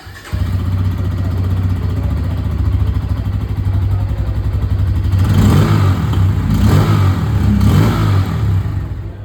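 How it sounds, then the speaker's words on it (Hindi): A 2024 Bajaj Pulsar N160 motorcycle running close by, its engine and exhaust holding a loud steady idle burble, then swelling through a few throttle blips that rise and fall. "अब मैं आप लोगों को यहाँ पर जो N160 है उसकी जो आवाज़ है वो भी मैं आप लोगों को सुना दूँ"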